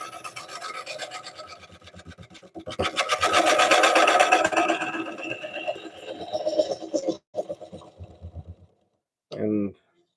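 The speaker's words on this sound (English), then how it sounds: "I think using this like a scraper right now, this carbide, basically like a scraper." Carbide scraper cutting an oak bowl spinning on a wood lathe, a loud continuous rasping scrape that swells and fades in long passes, with brief pauses, a short spoken remark near the end.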